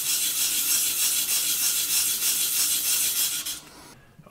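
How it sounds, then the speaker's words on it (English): Steady wet sanding of a scratched watch crystal with 400 grit sandpaper and water, a continuous close rasping rub in circular strokes that stops near the end. "I'm going to do a wet sanding on it"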